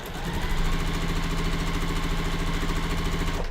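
A sewing machine stitches long quilt block pieces together, giving a steady, close, rapid mechanical whir with a fast even rhythm that runs for about three seconds without talk.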